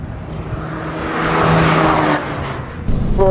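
A 2013 Fiat 500 Abarth Cabrio, a 160-horsepower convertible with traction control on, tears through a hot lap on a race track. Its engine roar swells to a peak and eases off, ending with a sharp squeal-like burst.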